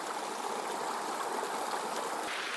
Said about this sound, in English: The water's moving pretty quickly